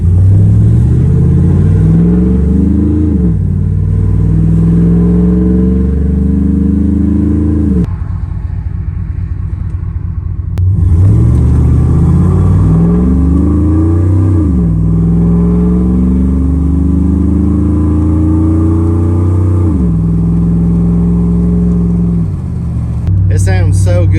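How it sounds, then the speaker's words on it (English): Car exhaust with 1 7/8 inch long tube headers, an X pipe and true dual pipes dumped ahead of the rear axle revs loud and close in repeated climbing pulls, with a brief lull near the middle and a voice talking over the engine. "That X pipe gives it kind of a little bit of that muscle car Corvette style sound."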